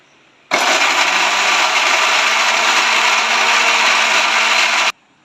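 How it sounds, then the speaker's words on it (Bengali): A mixer grinder whirs loudly and steadily for about four seconds as it grinds amla (Indian gooseberries), starting abruptly and cutting off cleanly, with no talking. "এখন আমলকিগুলো মিক্সচারে মিক্স করা হবে।"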